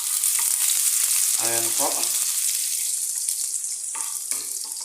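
Garlic fries in a pan while being stirred for adobong kangkong, a loud dense sizzle with a brief scraping, clattering stir, continuing close and steady; a voice speaks briefly.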